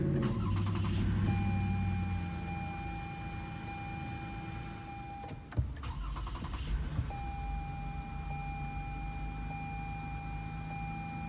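A 2018 Lexus RX 350 is started with its dash push button: the engine settles into a low, steady idle hum inside the cabin, with soft electronic chime tones and a brief click partway through.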